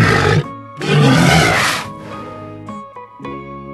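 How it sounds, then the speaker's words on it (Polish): A walrus gives loud, harsh, roaring bellows, a short call followed by a longer sustained one, then a few quieter throaty grunts. "Mors."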